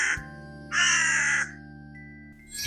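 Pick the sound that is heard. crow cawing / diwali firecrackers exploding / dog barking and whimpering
crow cawing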